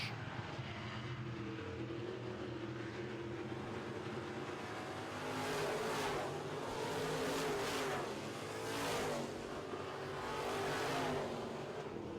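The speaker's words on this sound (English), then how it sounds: "TheRealTruck.com Truck Hero 1S now in second spot, and he's got Hogard in his sights." Midwest Modified race cars roar through a heat race, engines droning loud and steady with swelling passes as cars sweep by in waves.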